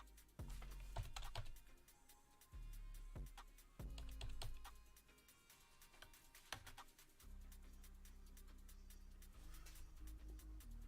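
Typing on a computer keyboard into a console, a steady patter of close, crisp keystrokes in uneven bursts with a few sharper clacks, quiet and without talk.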